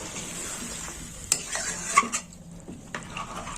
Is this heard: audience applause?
no